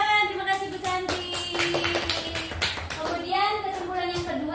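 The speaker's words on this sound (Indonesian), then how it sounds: "Ya, tepuk tangan" A classroom group claps in a quick, scattered burst of hand claps mixed with overlapping voices, fairly soft and close, for a few seconds.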